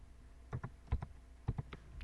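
Short bursts of keystrokes on a computer keyboard, a handful of close, crisp clicks in quick clusters with brief pauses between them, quiet and alone.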